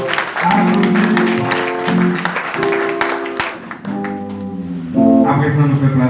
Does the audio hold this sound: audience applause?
yes